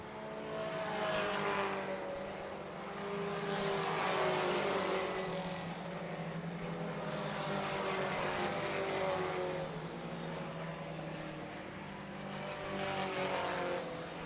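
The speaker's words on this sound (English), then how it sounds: "Callahan Cox and Taylor Lane now going wheel to wheel." Four-cylinder race cars run a short oval track in a 4 Cyl Pro class race, their engines droning from a distance and swelling into repeated loud passes every few seconds over a constant engine hum.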